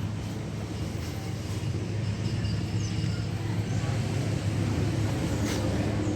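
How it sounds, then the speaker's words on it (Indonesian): A parked car's engine idles steadily on level ground while the radiator cooling fan is awaited, a constant low hum with light wind buffeting the microphone. "Jadi biarkan mesinnya hidup sampai nanti fan kipas ini menyala secara otomatis ya."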